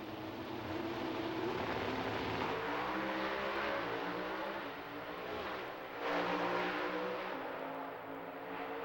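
Dodge pro stock drag race cars, Darrell Alderman against Jim Yates in a semifinal, roar steadily throughout with dense engine tone, a slight swell near the end, and no talking over it.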